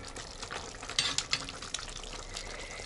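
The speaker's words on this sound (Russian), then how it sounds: "Вот, вываривается водичка." Water bubbles and sizzles as it boils off in a cauldron of pearl-barley pilaf with broiler chicken over a wood fire, a steady quiet simmer with a few sharper pops and crackles and no talk.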